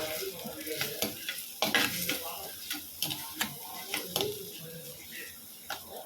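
Onions with curry leaves sauté in a pan under a soft sizzle, as a spoon scrapes and taps the metal in irregular strokes. The sound is close but fairly quiet, with faint background noise.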